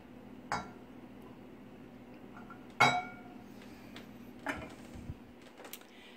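A uranium glass vase and a glass frog insert are handled, giving four or five sharp, bright glass clinks spaced irregularly over a quiet background.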